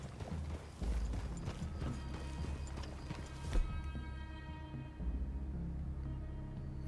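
Horses in a cowboy video game clip-clop across the ground in a steady, close hoof rhythm over a continuous low background.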